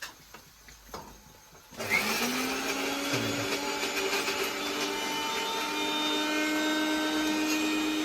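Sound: mixer grinder running

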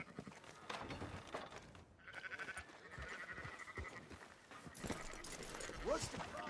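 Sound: sheep bleating in video game Red Dead Redemption 2

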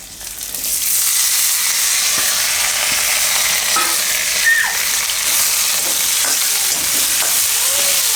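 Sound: potatoes frying in a pan

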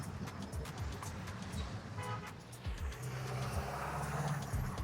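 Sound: street traffic with car horns

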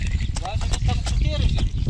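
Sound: horses being led to pasture, hooves clip-clopping

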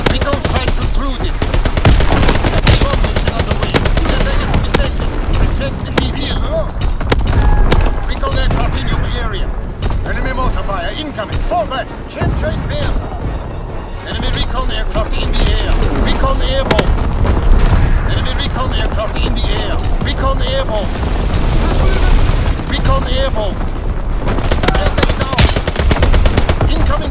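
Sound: artillery and gunfire from video game Call of Duty WWII

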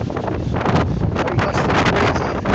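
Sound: wind blowing

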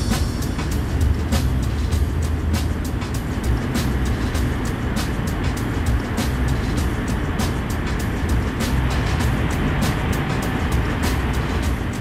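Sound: train entering a tunnel on Lötschberg line

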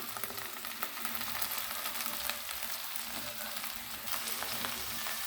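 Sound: okra frying in a pan on low heat

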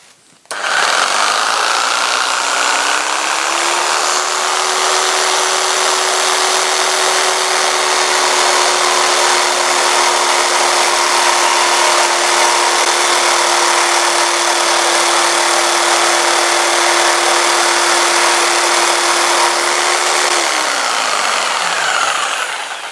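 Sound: jigsaw making a cross cut in wood

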